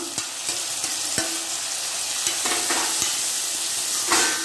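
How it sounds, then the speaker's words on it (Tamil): Tomatoes sautéing with onion, ginger and garlic in a pan for potato gravy, a steady close sizzle with repeated sharp clicks of a spoon stirring and scraping the pan. "தக்காளி நல்லா வதங்கணும் தக்காளி கொஞ்சம் நல்லா வதங்கி வருது"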